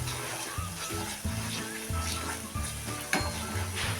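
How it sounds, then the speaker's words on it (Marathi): Spicy onion-garlic chutney frying in oil for Pandharpur-style amti, stirred with rhythmic scraping strokes over a continuous sizzle, close and moderately loud. "ती आता चांगली मिसळून घेऊया"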